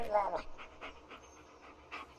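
A dog pants in the Blair Witch video game, quick rhythmic breaths repeating softly across the moment, with a voice briefly talking at the start.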